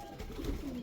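A pigeon coos softly in a short, low, rounded call, faint and close with a little background noise.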